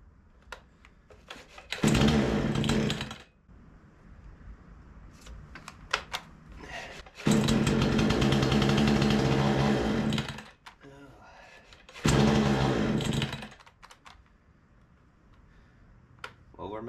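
A Remington 46cc chainsaw with a fuel problem fires up in three loud bursts of revving, each dying back to quiet stretches with clicks and handling noises, close by.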